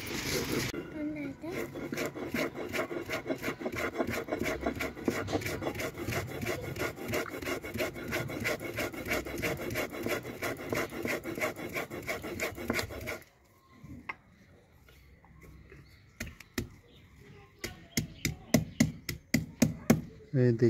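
Uttarakhand pahadi salt is ground on a stone in a rapid, rhythmic scraping and rubbing that runs for most of the stretch, then gives way to quieter, sparser knocks and scrapes near the end.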